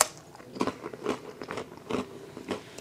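Someone bites and chews crunchy MRE bread from an XMRE Blue Line ration, with repeated close crackling crunches coming in a steady rhythm about every half second.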